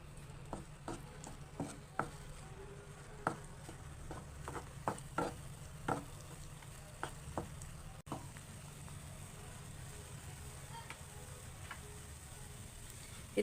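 Amla candy mixture is stirred in a pan, giving quiet, irregular scrapes and taps against a soft, steady background hiss. The spoon strokes come every second or so, then thin out.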